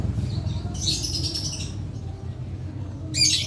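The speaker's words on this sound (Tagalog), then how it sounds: "Siyempre na maingay mga ibon" Birds nearby give two short bursts of shrill chirping and squawking over a steady low background hum, the first burst around mid-clip and the second at the end.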